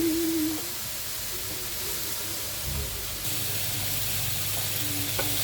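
A croque monsieur-style cheese sandwich fries in a pan with a steady, close sizzle and hiss that continues without a break and without talk.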